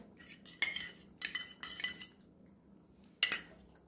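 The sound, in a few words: whisking milk cream (malai) with a spoon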